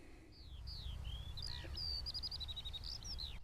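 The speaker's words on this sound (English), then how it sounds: "Lots of birdsong, absolutely stunning." Several birds chirp and sing outdoors in a field, short whistled calls and trills repeating over steady low rumble, fairly faint and in the distance.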